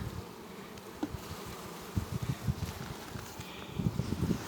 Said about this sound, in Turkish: Evet şu an kendi arıma bakmaktayım.